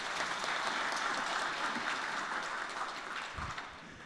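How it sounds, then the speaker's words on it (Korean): Congregation applauding at a Sunday afternoon church service during an awards presentation, a dense, sustained wash of many hands clapping that slowly thins toward the end. "박수 부탁드리겠습니다."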